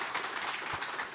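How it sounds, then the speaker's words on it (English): Faint group applause after a blue belt promotion, a brief soft patter of clapping from a small gathering. "One more round of applause, guys."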